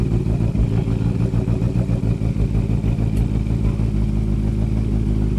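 Honda CB650R four-cylinder motorcycle, a 2019 model, riding along with a steady, loud engine drone and constant rumble throughout, no talk.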